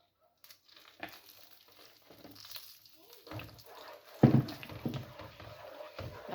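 Ghee and chickpea flour being stirred in a hot pan for nut laddu: soft intermittent scraping and faint frying crackle with spoon knocks, quiet and close, with brief bits of speech.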